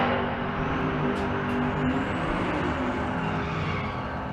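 Naturally aspirated small-block drag racing cars at the Bandimere drag strip, a loud continuous engine roar with steady harmonic drone, close and unbroken throughout.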